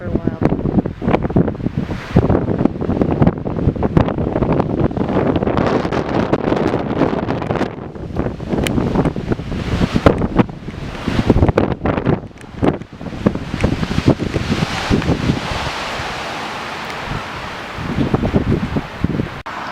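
Night windstorm near a beach: strong gusts batter the microphone in loud, irregular roaring bursts, with rustling and surf-like wash underneath and a brief calmer stretch partway through.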